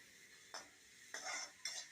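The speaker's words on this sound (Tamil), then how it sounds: "பொடியை நறுக்கின பெரிய வெங்காயம் போட்டு சால்ட்டு சேர்த்து வதக்கிக்கலாம்." Chopped large onions with salt being stirred and sautéed in a pan for a Tamil banana-flower and drumstick-leaf stir-fry; three scraping stir strokes with a soft sizzle in between, close and moderately loud, with no talking.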